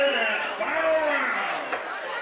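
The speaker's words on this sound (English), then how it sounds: "you hear the chants from the crowd for PKG's" Crowd at a combat-sports bout between Tanner Grant and Julio Rios, a sustained chant from the arena audience in support of Grant, steady and moderately loud through the whole stretch.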